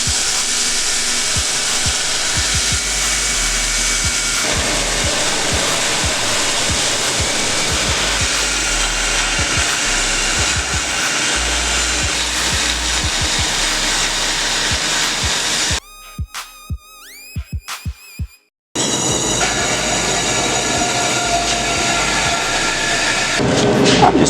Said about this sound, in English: I'm gonna have to grind that out